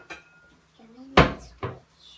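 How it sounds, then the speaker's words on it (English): A skillet is grabbed from a kitchen cupboard, giving a sharp wooden knock and a metallic clatter followed by a second softer bump, with a voice briefly heard around it. "let me grab another skillet"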